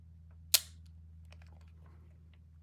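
A single crisp shutter click from an older film camera, very small and close, sounds once in near silence over a faint low hum, with a few soft handling ticks afterward.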